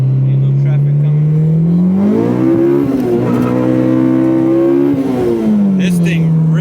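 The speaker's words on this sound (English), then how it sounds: "let's take our first rip in the Civic" A K-series swapped Honda Civic EG revs hard on the road, the engine note climbing through the gears, dipping briefly at a shift and holding a loud, steady rasp.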